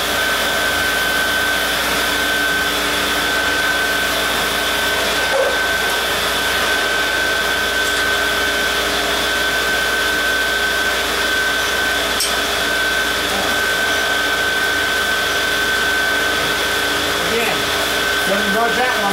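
A torch heats a stuck engine part in a workshop with a loud, constant roaring hiss, steady and unbroken throughout, close by.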